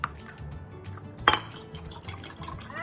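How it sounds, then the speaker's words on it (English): An egg beaten with a fork in a bowl, a run of quick close clinks and taps of the fork against the bowl, with one sharper knock partway through. "Beat an egg."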